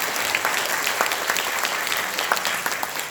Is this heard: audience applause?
yes